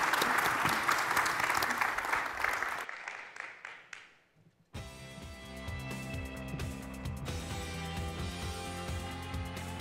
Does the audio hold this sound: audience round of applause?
yes